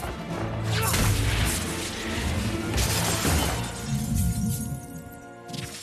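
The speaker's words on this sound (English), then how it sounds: "Things crashing, things exploding." Battle effects from a Harry Potter film: loud, dense crashes, shattering debris and booming explosions roll on in overlapping waves, with a possible faint voice under the din.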